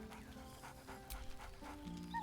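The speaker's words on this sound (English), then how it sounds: "Scratch barks merrily in something like agreement." Scratch, a dog in Baldur's Gate 3, gives several short, bright barks and yips over a steady bed of background game music.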